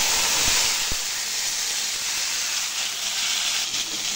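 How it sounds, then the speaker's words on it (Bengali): Cut vegetables (pointed gourd, brinjal, pumpkin and papaya) land in hot oil with five-spice tempering: two quick soft thumps, then a loud, continuous sizzling hiss close by. "সবজিগুলো আমরা এর মধ্যে ঢেলে দিব।"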